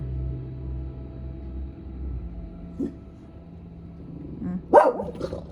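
A dog gives a single close, sharp bark near the end, following a quiet stretch of low street noise while a road in front of a house is being paved with asphalt.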